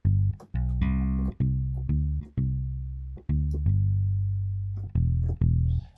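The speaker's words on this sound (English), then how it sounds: "muted clean Fender to get a sound like this" Short, punchy notes from a Fender electric bass with a muted, clean tone, played alone in a steady picked pattern with quick decays between phrases.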